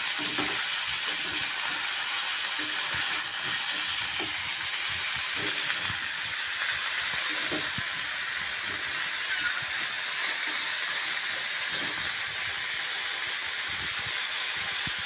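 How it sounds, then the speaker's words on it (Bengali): Cauliflower with turmeric frying in a pan gives a strong, steady sizzling hiss throughout, with faint clinks and stirring knocks underneath and no voices. "এবার এটাকে একটু জাস্ট একটু লাল করে ভেজে নিই।"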